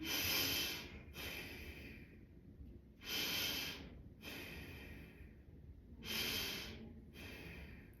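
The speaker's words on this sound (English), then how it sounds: "Let's do 3 in and out through the nose." Slow diaphragmatic breathing in and out through the nose, three full cycles of close, airy inhales and exhales, each lasting about a second and separated by brief pauses.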